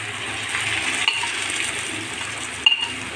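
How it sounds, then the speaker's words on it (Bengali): Mashed cabbage goes into fried onion and garlic in a pan, producing a continuous close sizzle with a couple of brief clinks of a utensil, no speech. "এখন আমি এই যে বেটে রাখা বাঁধাকপিটা দিয়ে দিচ্ছি পেঁয়াজ রসুনের ভিতরে"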